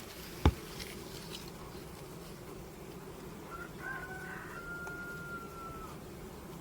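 A dense, steady hum of honeybees buzzing around an apiary hive fills the background, with a sharp knock at the start and a rooster crowing faintly in the distance partway through.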